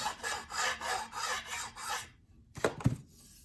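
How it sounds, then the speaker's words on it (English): A guitar headstock is sanded by hand with 1500 grit sandpaper in rhythmic close rasping strokes, about five in a row, then a pause and a couple of soft knocks. "So let me get my 1500 grit sandpaper."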